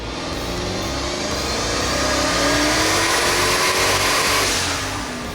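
A Dodge Challenger SRT8 with a Hemi V8 roars steadily at full load during a short dyno pull, loud and close, its engine note sustained with a rising whine before easing off at the end.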